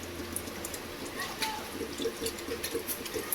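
Water drains away, giving soft trickling and dripping sounds. They are faint and close, and voices talk quietly underneath.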